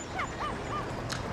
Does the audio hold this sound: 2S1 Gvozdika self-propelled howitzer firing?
no